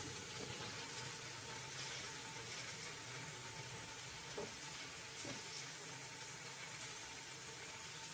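A whole onion sizzles in hot ghee while Afghani tikka kebab is being cooked, a steady, fairly faint crackle that runs unbroken, with a few soft clicks and no voices.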